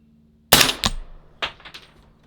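Suppressed .22 LR or paintball gun fire: two quick sharp pops close together, then a third slightly softer shot with a short decaying tail, heard alone and close.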